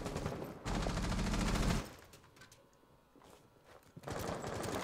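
Bursts of automatic gunfire from the shooter game Rainbow Six Siege during a professional PC match, a loud sustained burst, a quieter stretch with footsteps and scattered shots, then more firing.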